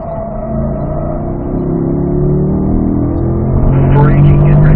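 A car accelerates out of a curve on the Spring Mountain North Course race track, its engine note climbing steadily and loud, with a voice talking over it.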